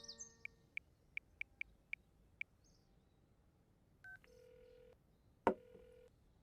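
A run of evenly spaced short beeps as a phone number is dialed, followed by a ringing tone and a louder click, faint and quiet.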